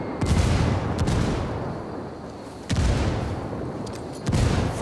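In-game gunfire and grenade blasts from Ghost Recon Wildlands: loud, close bursts of rifle fire punctuated by three heavy booming explosions with sharp onsets, spaced roughly two seconds apart.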